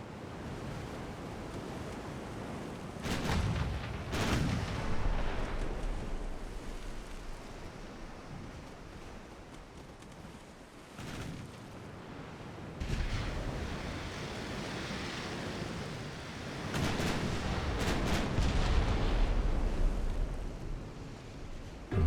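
Battleship main guns firing in a naval warfare game set in an 1892 French campaign, heavy booming blasts in several bursts around a few seconds apart, loud and rumbling over a constant low wash.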